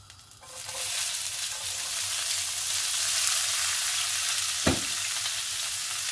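Yellow and red peppers with garlic frying in extra-virgin olive oil, a steady close sizzle that swells in after a quiet start and holds, with one brief clink near the end.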